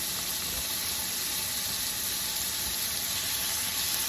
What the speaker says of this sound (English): I'm just going to saute this up